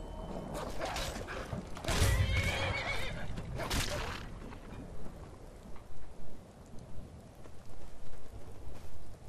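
Horse neighing in the video game Skyrim, a loud whinny near the start followed by a second call, then fainter hoof clops and patter under rain-like ambience, with no talk.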